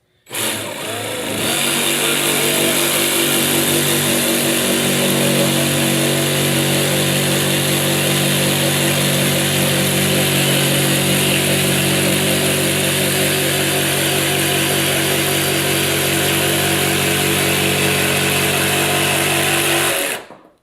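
A sabre saw cuts through a clamped board with a loud, sustained motor buzz and rattling blade that keeps up a steady drone for about twenty seconds, close by and without talk.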